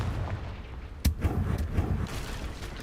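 Confringo fire spell in Hogwarts Legacy: a single sharp blast bursts out about a second in, then fades into rumbling crackle and low ambient game sound.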